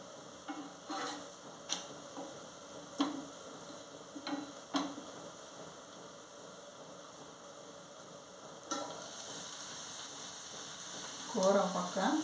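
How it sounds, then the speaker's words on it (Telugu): A beetroot chapati cooks in a little oil on a pan with a low continuous sizzle, broken by occasional spatula taps and a brief louder burst of frying near the end. "చపాతీలు కాల్చుకుంటున్నాను. ఆయిల్ కొంచెం వేసుకొని కాలుస్తానండి."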